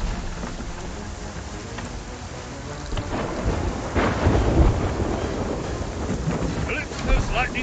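Stormy weather at sea in the pirate game Sea of Thieves: a rumbling thunder roll swells midway over constant rain and wind buffeting, with the storm noise sustained and fairly loud.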